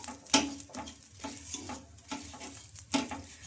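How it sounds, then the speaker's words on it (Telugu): Rumali paratha cooking on a hot griddle pan with oil, a steady soft sizzle punctuated by scraping and turning sounds from a spatula, close and moderately quiet with no talking. "ఇంకా ఇప్పుడు మరొకటి అయితే వేస్తున్నాను పెనం పైన. ఇంకా ఇలా ఒక సైడ్ కాలిన తర్వాత అయితే ఇలా ఇంకొక వైపు అయితే టర్న్ చేసుకొని ఇంకా ఆయిల్ అయితే అప్లై చేసుకుంటున్నాను."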